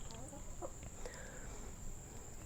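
Chickens cluck briefly at a backyard spot, with a faint bird call or two over a steady background hiss and a high constant insect-like whine; the clucks are soft and somewhat distant.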